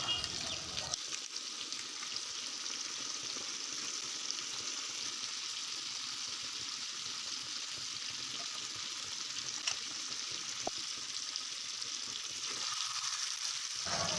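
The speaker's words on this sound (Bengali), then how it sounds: "চিকেনটা ভুনছি" Chicken bhuna fries in a pan with a constant, loud, close sizzle and faint stirring scrapes running underneath, with no talk.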